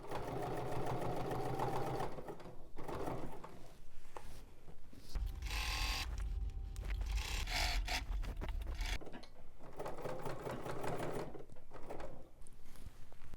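A sewing machine fitted with an edge stitch foot runs close by in a continuous mechanical whir with a steady stitching rhythm, briefly changing pitch midway before settling back, with no talking.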